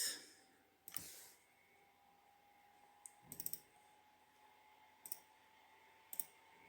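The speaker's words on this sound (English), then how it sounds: "We'll type hello, and I will close it." Sparse clicks on a computer keyboard, a short burst of keystrokes followed by a few isolated taps spaced a second or so apart, faint and close in a quiet room.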